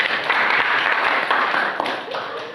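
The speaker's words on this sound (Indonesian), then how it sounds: "tepuk tangan untuk Ani" Classroom applause for a student named Ani during a teaching performance session, a brief burst of many hands clapping close and fairly loud, with a faint voice under the clapping.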